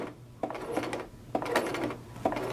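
A sewing machine runs a short line of stitches back over a gathered fabric seam for a Butterick 4743 pattern, giving steady mechanical whirring in a few close bursts with brief pauses between them.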